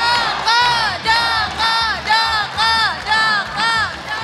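A studio audience of supporters at an Indonesian singing contest cheers and chants loudly in a steady, rhythmic pulse of massed voices, close and continuous throughout.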